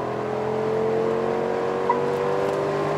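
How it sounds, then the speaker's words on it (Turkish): A 2025 Mercedes G63 AMG engine runs at full throttle, a loud, steady droning roar with strong low harmonics holding level for the whole stretch, heard from inside the car with no talk. "Tam gaz."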